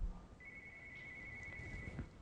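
A telephone on a PBX phone system ringing, a single steady electronic ring tone held for about one and a half seconds, faint over a quiet room, no voices.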